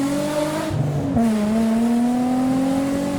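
A car engine hums loudly and steadily while driving with the roof down, leaving a car show, its pitch dipping briefly then climbing as it accelerates, with strong wind and road noise around it.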